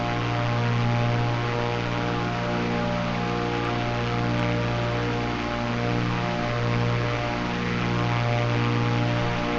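Propeller aircraft engine droning steadily in cruise at about 9,000 feet over mountains in a flight simulator game, a constant loud hum with gentle pulsing and no talk.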